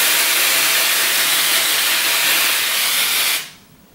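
A cosmetic cover product sprays from a pump bottle in one long, loud, close hiss that stops abruptly, leaving near silence.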